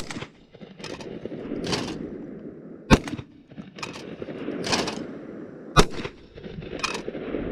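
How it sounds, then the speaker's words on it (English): Stoeger M3020 20 gauge semi-automatic shotgun fired at clays on a range, two sharp loud shots spaced a few seconds apart over steady outdoor background noise and wind. "So let's get to some more shooting, get you some first person view of it, and let's break some clays."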